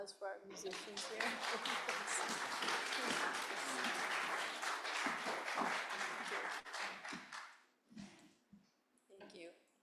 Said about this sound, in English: Can we give a round of applause for our musicians here?